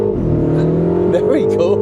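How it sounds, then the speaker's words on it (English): A MINI Countryman JCW engine runs at full throttle with a steady, loud, turbocharged drone, and a voice briefly cuts in over it. "It's powerful, so I'll show you how severe the turbo lag is. Full throttle now."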